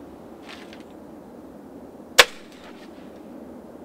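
A break-barrel air pistol fires a pellet with a single sharp, loud crack that cuts through a quiet, hissy background, with a faint rustle just before it.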